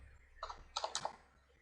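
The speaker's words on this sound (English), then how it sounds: "if I am typing here," Brief burst of typing on a computer keyboard, a few quick clustered keystrokes close to the microphone, alone in a quiet room.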